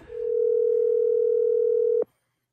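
A steady telephone dial tone sounds alone after a call disconnects, loud and unbroken for about two seconds before cutting off abruptly with a click.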